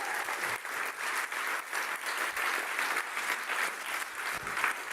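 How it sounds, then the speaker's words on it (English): Audience at a startup awards ceremony claps continuously for five seconds, a dense, even wash of applause from a large room with no voices over it. "give yourselves a round of applause for helping the startups"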